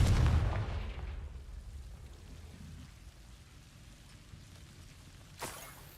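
A Confringo blasting spell explodes in Hogwarts Legacy, a loud burst at the start that fades into a low rumbling tail, followed near the end by a brief sharp crack.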